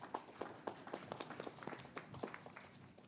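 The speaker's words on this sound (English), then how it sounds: "Shall we give him a round of applause" Light, scattered applause from a small conference audience, with quick uneven claps running through the whole moment at moderate volume.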